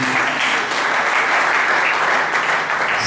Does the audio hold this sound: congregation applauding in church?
yes